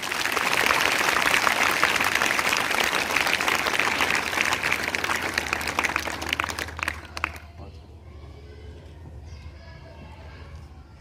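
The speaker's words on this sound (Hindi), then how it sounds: "एक बार अपने लिए जोरदार तालियां बजाइए।" A school assembly crowd breaks into loud, dense applause that holds for about seven seconds, then drops off abruptly to a quiet room with faint murmurs.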